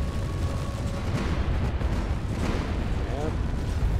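Railgun fire in a Space Engineers PvP tournament battle: dense, booming blasts rumble continuously amid heavy ship combat noise, with a commentator talking over it.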